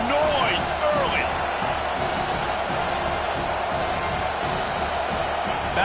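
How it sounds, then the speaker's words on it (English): A stadium crowd roars continuously at a college football game in a video game, a dense sustained cheer with whoops rising early, while a commentator talks over the noise. "This crowd bringing the energy and noise early."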